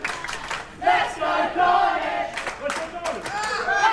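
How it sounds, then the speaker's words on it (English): Wrestling crowd at a live event chanting "Let's go Carnage" in a rhythmic, repeated group chant, loud and close, with shouting and commentary voices mixed in. "The crowd chant, "Let's go Carnage.""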